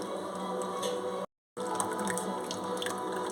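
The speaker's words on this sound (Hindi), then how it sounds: "इसके ऊपर ठंडा पानी डालेंगे फ्रिज का ताकि ये आपस में चिपके नहीं," Cold water from the fridge is poured over boiled vermicelli, a steady close splashing and trickling of water that continues, broken by a brief moment of silence partway through.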